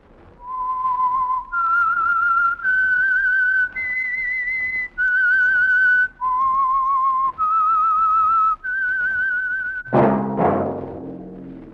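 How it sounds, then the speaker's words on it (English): A lone whistler performs the theme of the Signal Oil radio program The Whistler, a clear, close melody of sustained rising and falling notes. An abrupt burst of orchestral music follows. "That whistle is your signal for the Signal Oil program, The Whistler."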